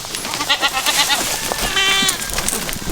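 Several goats bleat close by in quick, overlapping calls, with wavering cries layered over farmyard background noise.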